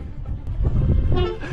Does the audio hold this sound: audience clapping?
no